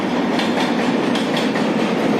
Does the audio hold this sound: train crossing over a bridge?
yes